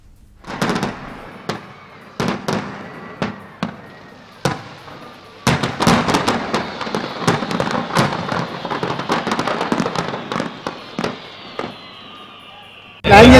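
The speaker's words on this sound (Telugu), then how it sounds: "బాణసంచా పేలి 2 బోట్లలో మంటలు చెలరేగాయి" Fireworks go off on boats on Hussain Sagar lake in Hyderabad during a fire accident. Loud, sharp bangs come first in scattered bursts, then in a dense crackling run, with voices faintly underneath.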